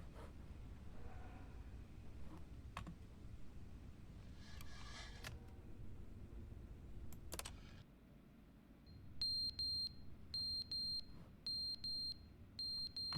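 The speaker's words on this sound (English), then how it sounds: "Oh great, now there's a fire alarm." In The Stanley Parable: Ultra Deluxe, a fire alarm starts up after a quiet stretch with a few clicks, blaring in loud, repeated electronic beeps in a steady rhythm.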